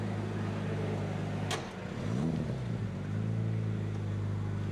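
A Mini race car idles in the pit lane at Donington, then the engine note dips as it finds a gear and rises again as the car rolls off, all at a moderate distance with no speech.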